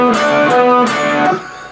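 Short electric guitar phrase from a song solo: picked notes with a bend, release and pull-off, loud and close with a few bright pick attacks, then fading out.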